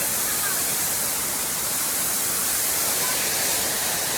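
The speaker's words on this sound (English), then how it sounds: "I'm gonna go touch the waterfall." A waterfall rushes in a steady, loud broadband wash that stays constant throughout, close by with no breaks.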